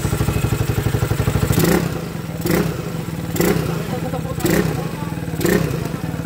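A Honda TMX155 motorcycle engine upgraded to 200cc with a 28mm carburetor idles with a rapid, steady putter, then is revved five times in regular bursts, each swell falling back to idle; loud and close.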